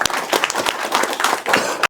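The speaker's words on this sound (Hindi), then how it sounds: "ताली बजाइए।" Retirement ceremony from the postal department: a crowd claps for honoured senior colleagues, with dense, steady clapping that holds for about two seconds and then cuts off abruptly.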